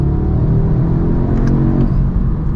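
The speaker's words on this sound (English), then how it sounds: "We'll do a little acceleration run to 130 here real quick" A 2021 Audi S3 accelerating hard in dynamic mode, heard from inside the car: a loud, steady engine rumble and drone that holds for several seconds, with no talking.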